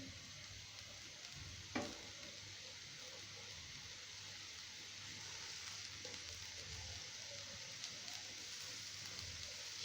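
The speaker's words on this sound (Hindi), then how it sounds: "साथ ही शिमला मिर्च डाल देंगे, इनको हल्का सा फ्राई करेंगे।" Capsicum lightly frying in a pan, a steady soft sizzle running throughout at low level, with a single brief clatter near the start and no talking.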